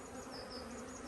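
Honey bees swarm over an open hive during an inspection as the frames are worked, giving a continuous, close, dense buzzing drone with wavering higher whines and no voices.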